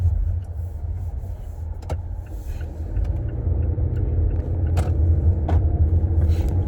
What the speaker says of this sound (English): let's pull out from these parking spots and put this thing on the road.